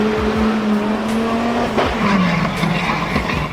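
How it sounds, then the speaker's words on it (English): Spania GTA Spano with an 8-liter twin-turbo V10 driving in a Forza racing game, a loud close engine roar with rising and falling revs, gear shifts and brief tire squeal. "Underneath the hood of the Spaniel lies an 8-liter twin-turbo V10 that outputs a beastly 912 horsepower"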